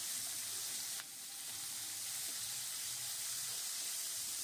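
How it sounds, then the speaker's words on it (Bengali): Onion stalks frying in about three spoons of oil in a wok: a constant, close, hissing sizzle with one brief bump near the start, no voices. "কড়াইতে একটু তেল দিয়ে দিলাম, 3 চামচ মতো। এবার পেঁয়াজ কলিটা দিয়ে দিলাম।"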